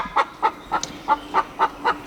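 Chickens, including young hens, cluck in a steady rhythm, about eight short, evenly spaced calls, fairly close and moderately loud, with no talking.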